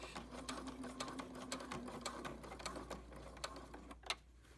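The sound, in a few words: sewing machine backstitching a quilt binding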